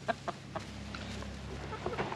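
Rhode Island Red hens clucking outdoors near their nests, a few short, fairly faint clucks spaced over a couple of seconds against a steady low background.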